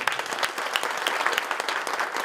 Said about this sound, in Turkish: Bu gizli santrafora kocaman güçlü bir alkış istiyoruz